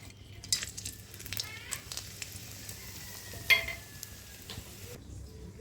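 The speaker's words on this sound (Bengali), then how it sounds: "তেলটি গরম হয়ে গেছে, ফোড়নের জন্য আমি নিয়ে নিয়েছি একটা তেজপাতা, 2টো শুকনো লঙ্কা আর গোটা গরম মশলা।" A bay leaf, two dried chillies and whole garam masala sizzling in hot oil: a faint, steady frying hiss with light utensil clinks and scrapes, one sharper knock in the middle.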